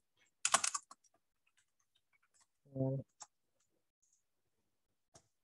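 Sparse, faint clicks of typing on a computer keyboard in a quiet room, a brief burst of keystrokes followed by a few isolated taps and a short tonal chime.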